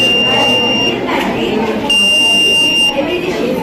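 An electronic buzzer from a distance-sensing project at a university science fair sounds a steady tone in two stretches, one near the start and one later, over background voices and room noise.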